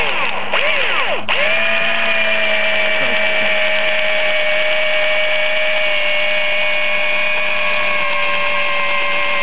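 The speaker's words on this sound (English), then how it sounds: "take your drill and put it in the center of your PVC pipe" A loud electric drill starts up and whines steadily at high speed, close by, holding a constant pitch as it bores into PVC pipe.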